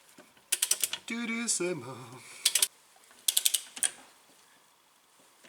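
Wheel studs being driven and tightened into a car wheel hub with a ratcheting tool, bursts of metallic ratchet clicks in short clusters, close, with a brief low voice murmur in between.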